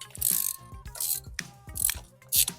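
Ratchet with an extension spark plug socket loosening a plug on a 2001 Audi A4 Quattro, four bursts of rapid metallic clicking close by, with short pauses between strokes and no talking.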